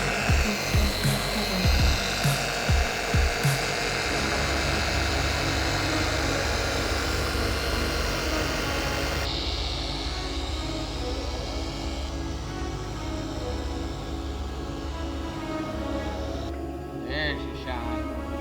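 An electric machine polisher works over the paint of a car hood in a shop, giving a steady whirring drone throughout, with a few sharp clicks near the start and a shift in tone partway through.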